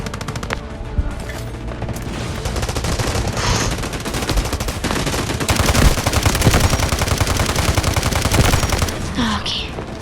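Rapid gunfire from Delta Force Mobile gameplay, loud and nearly continuous bursts of shots layered with explosions and game effects across the whole stretch, with a voice briefly heard amid the shooting.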